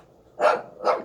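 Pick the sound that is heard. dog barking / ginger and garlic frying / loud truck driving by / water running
dog barking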